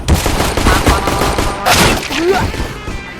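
Gunfire in the video game CS:GO, loud dense bursts of shots and impacts with clattering effects, close and continuous through the stretch with a distinct swell midway.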